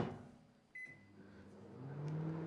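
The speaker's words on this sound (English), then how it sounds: "This is microwave cam. What should we do? 800 watts? Maybe I might even go lower. Let's go 600." A microwave oven hums steadily while melting butter at 600 watts, with a brief higher beep-like tone early on and the low drone rising slightly toward the end, close and fairly quiet with no talk.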